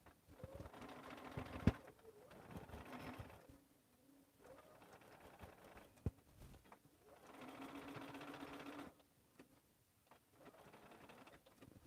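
A sewing machine back stitching over a hanger loop on a lined stocking, running in several steady bursts of whirring stitches separated by short pauses, close and fairly quiet.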